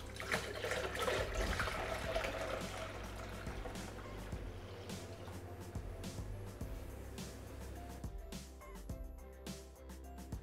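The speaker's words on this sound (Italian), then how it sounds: "aggiungiamo l'acqua gassata che deve essere molto fredda" Very cold sparkling water pours into a Thermomix jug with a lemon mixture, a soft continuous splashing and fizzing trickle that tapers off near the end, quiet and without talking.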